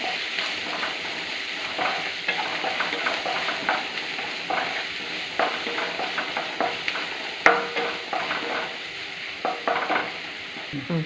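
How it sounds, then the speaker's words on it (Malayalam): Sliced onions sautéing in a pan for a banana-blossom cutlet, a steady close sizzle broken by repeated scraping stirs of a spatula, with no talking. "സവോള ഇടാം സവോള ഒന്ന് നല്ലതായിട്ട് വഴ വഴന്ന് തരണം"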